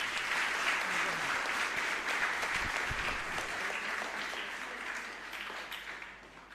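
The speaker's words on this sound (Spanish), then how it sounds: "Todos juntos quiero agradecer con un fuerte aplauso." A church congregation at an evening Mass applauds together in a steady, sustained burst of clapping that tapers slightly toward the end, with a faint murmur of voices beneath.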